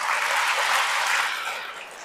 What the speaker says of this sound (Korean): 여기 오신 남성분들 박수 한번 쳐주세요.